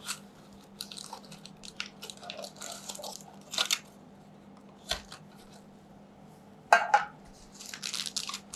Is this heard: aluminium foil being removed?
yes